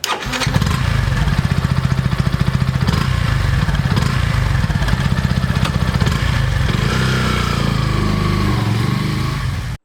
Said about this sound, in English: I think Yamaha has changed the exhaust note, and now this does sound more heavy, even though it feels a bit toned down when you leave it idle